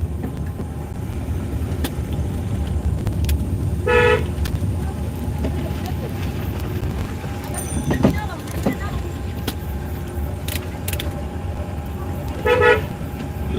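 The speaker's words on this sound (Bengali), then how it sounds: "বাঁকের সামনে আসলে আপনার একটা হর্ন দেবেন" From a car driving on a busy highway, two short horn toots sound several seconds apart over a steady rumble of road and engine noise.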